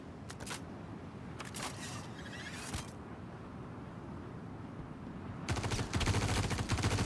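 Gunshots in the video game Star Citizen, short bursts of rapid-fire shots with pauses between them over a constant low rumble, growing louder and denser toward the end, with no talking.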